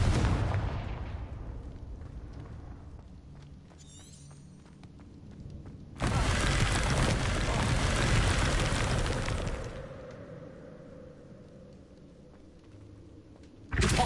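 Fire-blast spells go off in the Hogwarts Legacy video game. A loud blast opens and fades into a rumbling tail, a second heavy explosion roars for several seconds, and a fresh burst hits at the very end.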